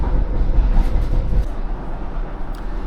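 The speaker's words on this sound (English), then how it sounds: "This is the Tyne Metro at this point on the map." Tyne and Wear Metro train running on electrified double track through open countryside, a steady close rumble and rattle of the carriage heard from on board, louder in the first half and then settling to an even roll.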